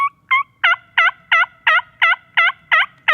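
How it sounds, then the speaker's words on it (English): A Strut and Ridge Sweet Talker turkey mouth call with its reeds stuck together, blown in a fast even run of about ten loud, close yelps after two shorter opening notes. "First call, this is the Strut and Ridge Sweet Talker."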